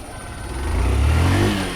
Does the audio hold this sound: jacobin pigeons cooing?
no